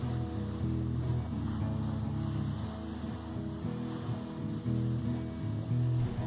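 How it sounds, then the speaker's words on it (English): Winter waves rolling onto the shore of Lake Tahoe, a soft, steady wash of surf heard faintly with wind and no talking. "Then the waves are coming in nice and clean,"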